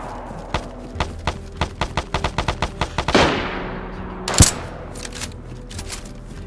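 Rapid gunshots ring out in the video game DayZ, a quick run of about ten sharp reports followed by a heavier blast and one more loud crack, with no talk over them.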